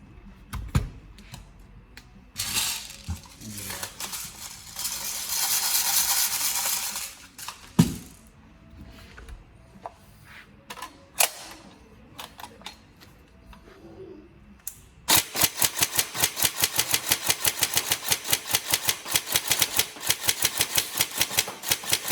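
Clicks and mechanical handling noises come first, then a custom Tokyo Marui M4 SPR airsoft rifle fires a long run of rapid, evenly spaced sharp shots in a steady rhythm.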